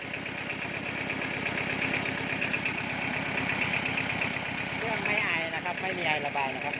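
An old tractor with a steel seat and factory paint idles with a steady, close rumble and a regular knocking beat, while someone talks over it.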